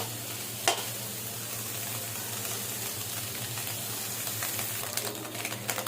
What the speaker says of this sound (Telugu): చూడండి మన వెజ్జెస్ కూడా బాగా ఫ్రై అయ్యాయి